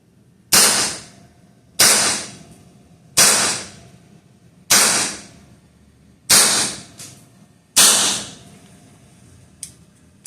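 Six loud, evenly spaced shots from an Evanix Viper-X .25 caliber air pistol, each a sharp crack with a quick decay, fired roughly every one and a half seconds, followed by a faint click.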